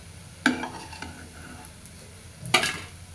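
Fried duck eggs are stirred and turned in a pan while cooking, with two sharp metallic scrapes over a faint, steady sizzle and no talking.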